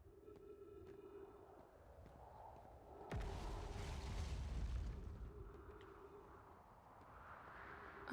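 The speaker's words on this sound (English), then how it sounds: "I'm sure those explosions are fine." A sudden deep explosion booms through the Outer Wilds video game, rolling into a heavy low rumble for about two seconds before fading back into a quieter, steady game ambience.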